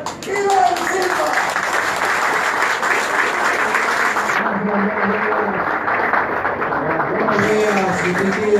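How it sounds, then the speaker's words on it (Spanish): Loud, sustained audience applause welcoming a speaker at a political agricultural-sector event, clapping mixed with crowd voices and shouting throughout. "recibamos con un fuerte aplauso al próximo senador Iván Silva"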